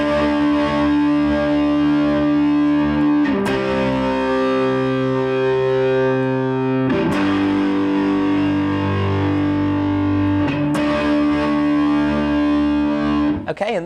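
Distorted electric guitar plays a chord sequence, sustained ringing chords changing about every three and a half seconds, loud and alone with no talk.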